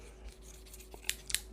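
Small scissors made for quail eggs give two crisp, sharp metallic snips close by, spaced about a quarter second apart over a low steady hum.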